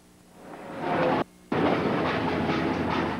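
A train rolls along rails with weeds and brush growing up close on both sides and covering the ties, on the Lewis and Clark Railroad in 1989. Steady, loud rumble and rail clatter build up, with one brief gap before the noise returns.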